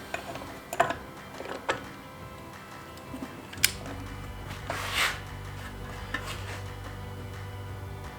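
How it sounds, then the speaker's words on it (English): A wheel rotor on a Jeep CJ5 Dana 30 axle is spun while the bearing preload nut is tightened: close metallic clicks and ticks, then a low steady rotating hum with a brief swishing surge midway. "as we tighten this, you want to spin the rotor to make sure that the bearing's kind of setting even as it's going in"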